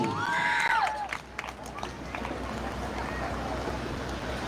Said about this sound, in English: Give a big round of applause to all the parents who are going to be back in the seats.